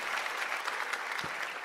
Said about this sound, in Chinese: 真的此处应有掌声啊